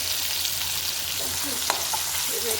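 Drumstick pods and tomatoes fry in oil with turmeric, a dense, steady close-up sizzle with an occasional clink of the spoon against the pan.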